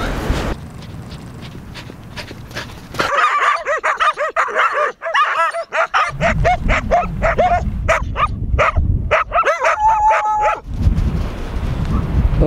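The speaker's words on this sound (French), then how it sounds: "Notre ami Argos il fait le malin avec les chiens, mais quand ils sont 4 ou 5, après il n'y a plus personne." Several dogs bark and yip on a street in Morocco, loud and close, with overlapping barks and a brief whimpering or howl-like tone, continuing almost throughout.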